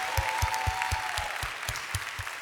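A congregation at a Korean church worship gathering claps in a steady, even rhythm, about four beats per second, with a sustained musical tone beneath.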